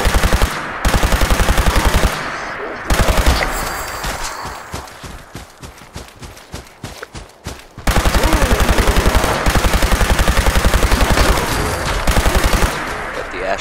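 Automatic laser rifle with quadruple fire rate firing in Fallout 76, long rapid bursts of loud, evenly spaced shots with a few brief pauses and scattered single hits in the middle stretch.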